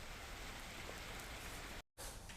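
Steady, dense rain with hailstones pouring down in Uttarakhand, a constant close hiss of drops hitting surfaces that breaks off for a brief moment near the end.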